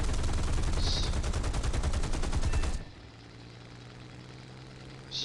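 Sustained burst of aircraft machine gun fire in the War Thunder video game, a loud, rapid rattling stream lasting nearly three seconds before cutting off abruptly to a low engine drone.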